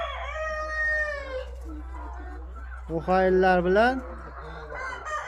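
Chickens in a poultry house cluck and one rooster crows loudly near the middle, with a steady low hum underneath and someone speaking briefly.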